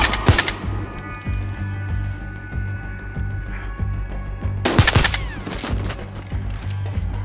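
Battlefield Hardline gunfire in a swamp firefight: steady rhythmic rounds of automatic fire throughout, punctuated by two loud blasts near the start and again around the five-second mark.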